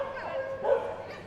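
A collie cross dog competing in team agility at Crufts gives a single short, fairly close yelp or bark over a faint hall background.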